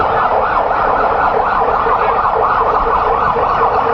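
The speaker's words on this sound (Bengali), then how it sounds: "আইসিউ অ্যাম্বুলেন্সে করে পাঠানো হচ্ছে" An ICU ambulance siren wails loudly and continuously at Sylhet Osmani airport, a steady close-up tone with traffic rumble underneath and no voices.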